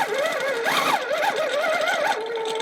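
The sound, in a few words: Janome SD16 sit-down longarm quilting machine sewing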